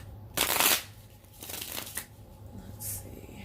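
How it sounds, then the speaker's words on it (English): A deck of tarot cards is shuffled by hand in a quiet room, three short riffling bursts, with the first loudest and a fainter one near the end, nearby and without talk. "One more shuffle."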